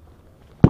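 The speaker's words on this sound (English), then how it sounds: "learn how to use the M3 Carl Gustav 84mm recoilless" An M3 Carl Gustav 84mm recoilless rifle fires on a US Army range: after a quiet stretch, one sudden, loud, booming blast erupts at the very end.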